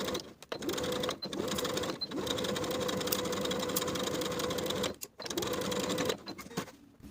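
A sewing machine stitches a dress neckline seam in close, steady whirring bursts broken by several short pauses and stops.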